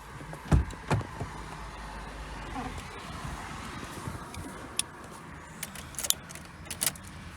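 Car keys for a Fiat Punto jangle and clink in a few bright bursts over a low background rumble, while people talk nearby.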